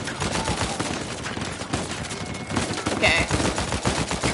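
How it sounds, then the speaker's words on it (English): Blind-fire gunshots in the video game Uncharted 4 crackle in dense rapid bursts throughout, loud and continuous under the game's ambient sound, with a brief spoken word from a player. "I just killed someone with blind fire."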